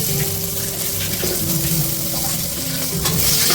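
Green chilli and ginger garlic paste sizzle and fry in a pan for ghee rice, with steady stirring scrapes throughout; close, continuous and fairly loud, with no talking.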